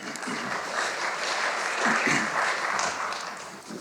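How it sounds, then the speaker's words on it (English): Applause from the audience at the Te Whatu Kairangi 2025 awards ceremony, a moderate, steady clapping of many hands that carries for several seconds before starting to fade. "That clap wasn't very loud."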